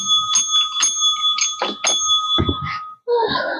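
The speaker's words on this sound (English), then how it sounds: "Ringing the bell, but slowly ringing the bell for a real true smile." A bright bell rings several times in slow succession, each clear metallic ding sustaining and overlapping, followed by a brief gap and softer rustling.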